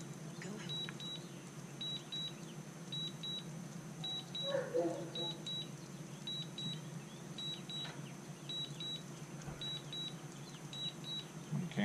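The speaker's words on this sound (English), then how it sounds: "I'm going to cancel that because that beeping is crazy." A DJI Mavic Mini drone controller emits rapid paired beeps in a steady repeating pattern during return to home, heard outdoors over a low hum and faint background noise.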